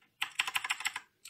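Close, crisp keystrokes rattle on a computer keyboard in a quick run of about ten clicks, then a short pause and one more tap.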